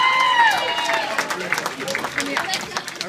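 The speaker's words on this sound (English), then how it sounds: "please a big round of applause for both of your best men" Wedding guests clap for the best men at a reception toast, a fairly quiet scatter of applause with crowd murmur that tapers off while a voice begins to speak.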